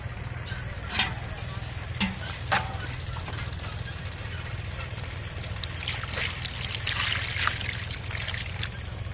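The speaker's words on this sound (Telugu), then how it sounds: "ఇలా విధంగా నీకు వాటర్ పోసుకొని" Water trickles and pours in uneven bursts over a constant low mechanical hum, with a stronger splashing stretch near the end.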